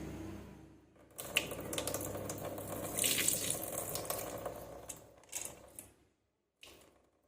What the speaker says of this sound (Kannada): ಈಗ ನೀರು ಬಸ್ತಾ ಇತ್ತು